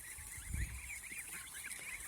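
Goslings feeding give faint, soft honks and low rustling bursts that peak briefly near the middle, with quiet background in between.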